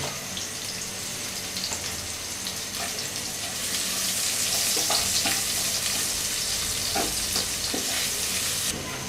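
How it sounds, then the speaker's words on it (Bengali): Chopped onions fry in a pot for a sweet Bangladeshi pulao, giving a steady, fairly loud hiss of oil dotted with scattered crackles. "এর মধ্যে আমি কুচি করা পেঁয়াজ দেব"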